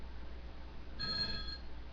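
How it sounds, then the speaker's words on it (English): A telephone rings once with a faint, distant electronic trill that lasts about half a second over a quiet background hum. "the phone's ringing."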